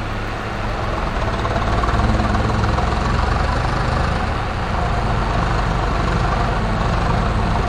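A tractor engine in Farming Simulator 22 drones loud and continuous, a dense, steady rumble with no pauses, while the tractor bogs down hauling a sugarcane trolley.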